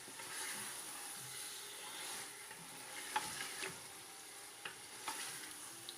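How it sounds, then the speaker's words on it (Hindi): Bone-in beef fries with onion, ginger and garlic in a pot, making a faint, steady sizzle with occasional soft clinks and scrapes from stirring. "अब हम इसके अंदर अपना बीफ ऐड कर लेंगे।"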